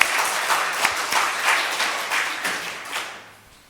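Church congregation applauding after a Sunday service introduction, a dense wash of many hands clapping at moderate volume that gradually fades out toward the end.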